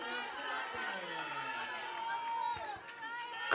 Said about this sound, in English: Crowd making a bunch of noise out here.